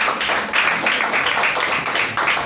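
A church congregation claps for a woman pastor during a Portuguese-language prayer service, a steady dense wash of hands ringing out close and loud for the full stretch, with no voices rising above it.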